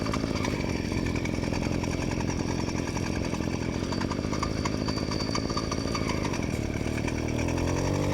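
Yamaha YD100 motorcycle fitted with a Phantom 85 expansion exhaust, engine held at high revs with a loud, continuous raspy two-stroke buzz throughout, rising slightly in pitch near the end.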